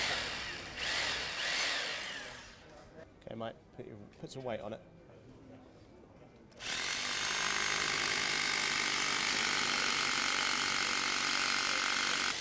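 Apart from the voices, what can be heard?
power drill drilling holes to fit a bench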